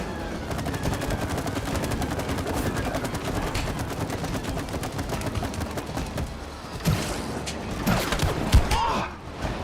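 Gunfire in the video game It Takes Two, a rapid continuous rattle of shots filling most of the stretch, with a few heavier thumps and a gasp near the end.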